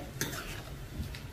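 Pav bhaji vegetables being stirred together in a pan for street-style Mumbai pav bhaji, with soft scraping and a faint sizzle close by, brief and fairly quiet with no talking.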